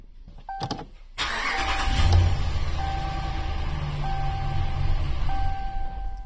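A Ram 1500 pickup truck is started with its fuel pump fuse removed. A short starter crank catches into a steady idle, with warning chimes beeping at intervals over the running engine.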